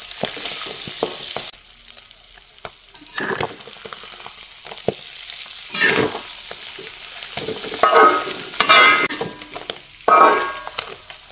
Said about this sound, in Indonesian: Lanjut goreng ikannya sampai selesai.